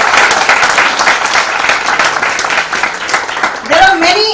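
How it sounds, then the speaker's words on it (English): Applause from an audience welcoming a guest at a book launch event in Mumbai, a dense steady clapping that fills the room throughout, with a brief whistle or cheer near the end. "A huge round of applause for him."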